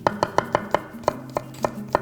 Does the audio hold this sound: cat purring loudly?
no